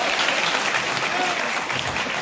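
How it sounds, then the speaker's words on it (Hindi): Audience applause at a community event honoring Lord Parashuram, a steady, dense clapping that fills the whole moment without a break. "ताली बजनी चाहिए सब बड़ों को"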